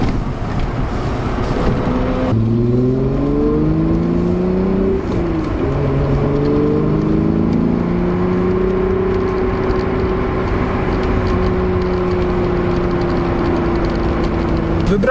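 Volkswagen Corrado VR6 drives and revs hard, its engine note climbing through rising sweeps, dropping with gear changes, then holding a steady drone close by.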